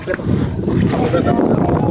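A small engine-driven local boat crosses a river, its motor droning steadily under heavy wind rush, loud and continuous for the short stretch.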